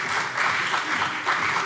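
Members in a Hessian state parliament plenary session applaud, a short burst of broad even clapping that rises and eases in waves, moderately loud with a faint voice underneath.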